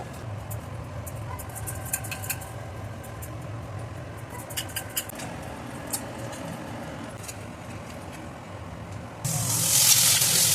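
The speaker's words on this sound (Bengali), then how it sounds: "তেলের মধ্যে দিয়ে ভালো করে ফ্রাই করে নিচ্ছি" Fritters deep-frying in hot oil give a steady, soft sizzle and crackle throughout, with no talking, swelling into a much louder, hissing burst of frying near the end.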